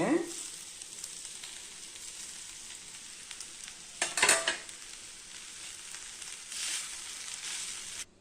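Steady frying sizzle with soft scraping as cooked rice is stirred in a pan for gooseberry and sesame mixed rice, a brief louder clatter midway, no voices.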